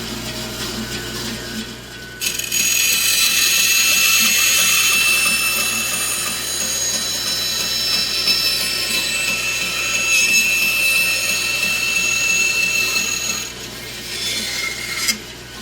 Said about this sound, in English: I set my bandsaw up to cut these down